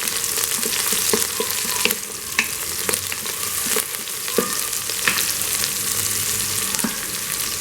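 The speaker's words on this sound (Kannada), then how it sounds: "ಸಾಸಿವೆ ಚಿಟ್ಪಟ ಆದಮೇಲೆ ಈರುಳ್ಳಿಯನ್ನು ಸೇರಿಸ್ತಾ ಇದ್ದೀನಿ ನೋಡಿ" Onions and curry leaves fry with mustard seeds in an oil-filled pan, a loud close sizzle broken by sharp pops and crackles and the scrape of stirring; no voices.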